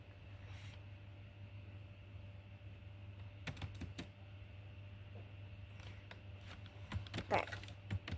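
Quiet clicking of typing on a computer keyboard for a cafe cashier program, a few scattered keystrokes and a short run near the end over a steady electrical hum, with someone talking softly.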